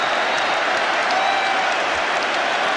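Sustained applause and cheering from a huge rugby stadium crowd after France scores a try against the All Blacks in 1999, a continuous loud roar without a break.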